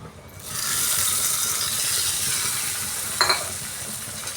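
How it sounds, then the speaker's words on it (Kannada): Hot oil tempering poured into a chutney sizzles in a steady, close hiss that flares in, holds, and is broken by a short clatter near the end. "ಇವಾಗ ಚಟ್ನಿಗೆ ಒಗ್ಗರಣೆಯನ್ನು ಸೇರಿಸ್ಕೊಳ್ಳೋಣ"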